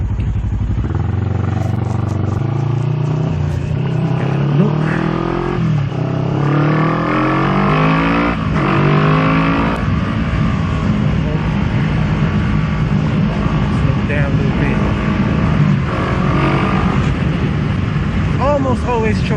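A 2019 Kawasaki Z650 motorcycle on the highway accelerates through early, short-shifted gears, its engine note rising and dropping with each change under steady wind roar; a rider talks over it throughout.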